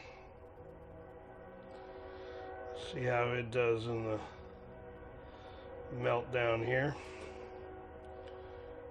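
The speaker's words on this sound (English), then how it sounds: "Got a train that runs fairly close to my house. You're hearing it in the background." A train running fairly close to a house sounds its horn in two long, wavering blasts, moderately loud in the background, while someone talks in a workshop during an engine assembly lube test.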